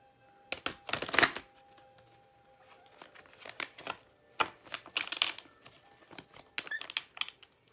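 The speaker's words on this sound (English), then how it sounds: "I'm gonna shuffle." Close, fairly quiet riffling of a deck of cards in several quick bursts separated by short pauses.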